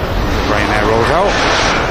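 Ryanair airliner rolling out on the Manchester Airport runway after landing, a loud sustained jet-engine rush with a wavering tonal whine partway through, mixed with speech.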